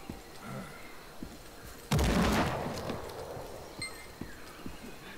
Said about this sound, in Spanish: Ni siquiera la explosión pudo con eso.